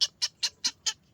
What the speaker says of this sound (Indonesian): ini adalah anakan burung cangak ulo ya teman-teman, atau burung bangau